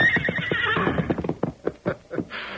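A horse whinnies loudly and close, a shaky descending neigh that breaks into snorting bursts, heard alone in a desert setting.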